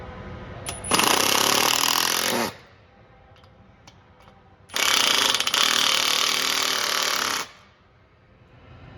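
A power drill drives screws into the base of a bike rack during assembly, running in two sustained bursts of a couple of seconds each, close and loud, with quiet pauses between.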